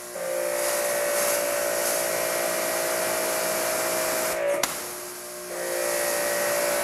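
A RYOBI 2700psi electric pressure washer fitted with a 15-degree nozzle runs close by with a steady whine, briefly dips and stutters midway, then picks back up to full hum.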